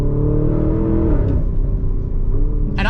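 A Porsche Cayenne Turbo GT with an 8-speed automatic accelerates hard, its engine note loud and close, rising steadily as it keeps pulling, with no talk over it.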